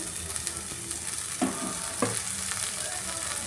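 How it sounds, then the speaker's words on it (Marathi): Fresh fenugreek leaves go into a pan of softened, steamed potatoes for aloo methi sabzi, giving a steady close sizzle with two brief louder stirring bursts and no talking. "आपले बटाटे सॉफ्ट झाले. तिथे मी मेथी ॲड करून घेते."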